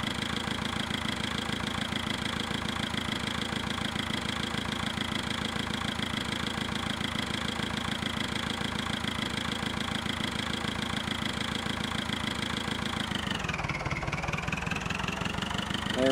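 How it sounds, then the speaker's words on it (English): A tractor engine idles in the Farming Simulator 2011 video game, a steady, pulsing mid-pitched drone that holds even for a long stretch, then dips and shifts pitch near the end. No one speaks. "Let's bring this tractor over"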